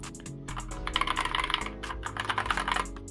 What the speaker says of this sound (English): it sounds like a very old mechanical keyboard